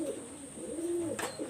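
Pakistani high flyer pigeons coo in a low, drawn-out burble close by, one rising and falling call over a steady hum and hiss, with a brief sharp noise near the end.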